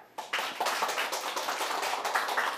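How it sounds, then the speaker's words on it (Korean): Applause from a seated audience at a lecture show, welcoming a security expert onto the stage; a burst of clapping starts abruptly and holds steady and moderately loud for a couple of seconds. "백재환 보안 전문가님을 큰 박수로 한번 모셔볼게요"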